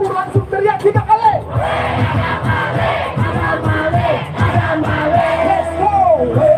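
Protesters at the Kamisan rally in front of the Presidential Palace in Jakarta shout together, a loud, dense crowd roar with rhythmic chanted yells that builds and holds steady throughout.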